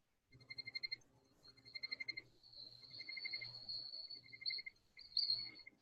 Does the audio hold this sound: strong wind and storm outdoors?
no